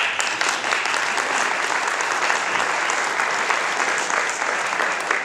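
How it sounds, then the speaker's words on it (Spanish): A church congregation bursts into loud, dense applause during a service, sustained and even throughout with no speech over it. "Y den un aplauso, Señor."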